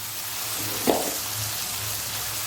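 A spice paste of onion, ginger, garlic, chili and turmeric sautés in a pan with a constant close sizzle and one brief stirring scrape, without any speech.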